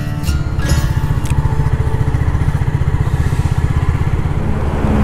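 A Royal Enfield Classic 350 motorcycle rides through the bike lane of a toll plaza, its single-cylinder engine thumping in a steady, close, loud rhythm, with a few brief sharper clanks near the start.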